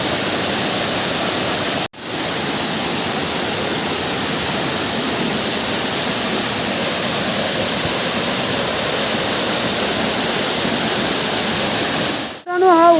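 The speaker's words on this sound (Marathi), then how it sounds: "तर मित्रांनो हा जो धबधबा आहे तो खूप मोठा आहे" Large, tall Sawat Kada waterfall near Rajapur, a loud, continuous roar of falling water close by, broken only by two brief dropouts, with a voice starting right at the end.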